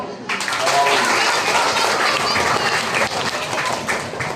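Steady applause from a crowd at a kindergarten graduation ceremony at a primary school in Fort Kochi, dense clapping sustained throughout at a fairly loud level.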